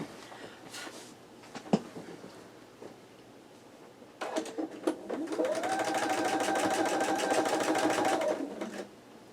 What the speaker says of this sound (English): I'm going to take this one to the machine and sew this one